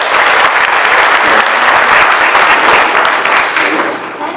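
Loud, sustained applause from an audience at a school board meeting, continuous dense clapping throughout before tapering slightly at the end.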